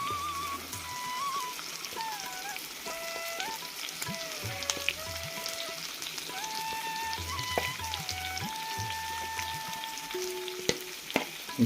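Fried chicken pieces being stirred together with a little leftover gravy, a steady close frying sizzle with soft scraping stir strokes running throughout.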